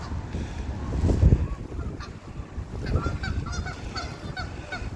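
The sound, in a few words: Canada geese honking, arguing with mallard ducks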